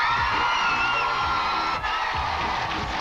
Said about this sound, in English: Give him a round of applause, folks.